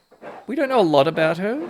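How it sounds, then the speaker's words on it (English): A dog whimpers and yips close by, clearly audible under and between a man's speech. "Excuse the dog."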